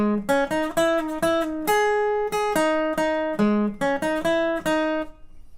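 Electric guitar riff from a song, played with slides in a quick, punchy rhythm of repeated and sliding notes, close and clear with no talk.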